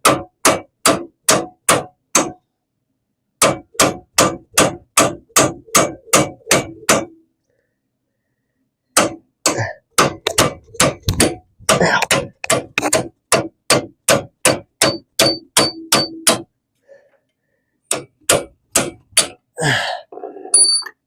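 A hammer taps out a king pin on a hot rod straight axle, sharp metallic strikes in quick bursts of evenly spaced blows separated by short pauses, loud and close, with a few scraping sounds near the end.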